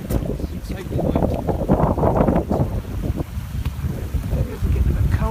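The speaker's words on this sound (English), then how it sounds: "The wind is strong." Strong gusting wind buffeting the microphone on an upland walk in the Lake District near Seathwaite and Styhead Tarn, a loud continuous low rumble with surging pulses throughout.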